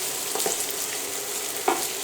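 Potatoes, carrots, bacon lardons, onion and garlic are stirred in a frying pan, with a steady sizzle under a few soft scraping strokes and one sharper utensil knock near the end.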